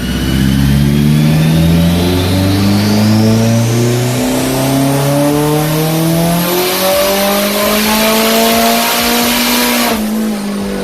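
A 700-horsepower Honda S2000 engine runs on a dyno and revs loud and near, its pitch climbing steadily as RPM rises toward the limit, then cutting off abruptly near the end.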